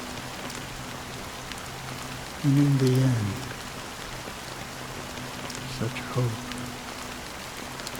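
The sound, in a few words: rain in video game Honkai Star Rail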